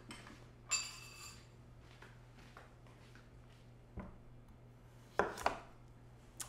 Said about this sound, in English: I'm gonna cut off the part just before the seeds